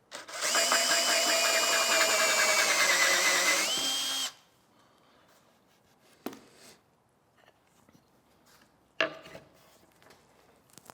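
A cordless drill spins a reamer into a wooden Windsor chair seat, making a loud, close whine for about four seconds that slows slightly near the end, then stops, followed by quiet and a couple of faint knocks.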